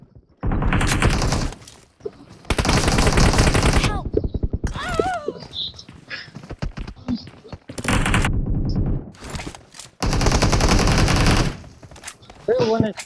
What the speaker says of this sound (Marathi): तुला एक पण गोळी नाही लागली ना माझी संदेश?